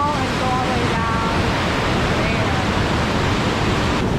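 A waterfall on a night hike roars loudly and steadily close by, a dense, unbroken rush of water that fills the whole stretch, with a faint voice briefly rising above it.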